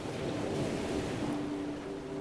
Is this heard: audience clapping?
no